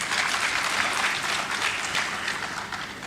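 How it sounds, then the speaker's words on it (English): A large audience at a higher education summit in Ghana applauds steadily, a dense, even wash of many hands clapping that holds at full strength for the whole stretch with no voices rising above it. "Please, a round of applause once again."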